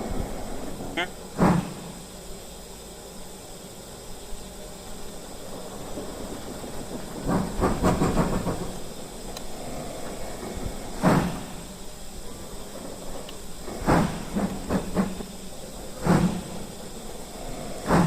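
A BR 78022 steam locomotive in a train simulator game starts off with soft, spaced exhaust chuffs and hiss over a steady background rumble, the beats growing sharper as it pulls away.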